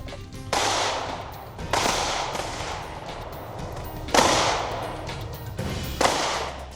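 Single-action firearm shots ring out at a shooting practice range, four or five loud, sharp reports spaced a second or two apart, each followed by a short echoing tail.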